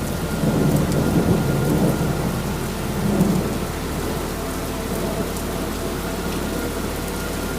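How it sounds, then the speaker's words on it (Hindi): Heavy rain drums steadily, with a low rumble of thunder swelling near the start before the downpour settles into a constant roar. "ये बारिश तो रुकने का नाम ही नहीं ले रही है।"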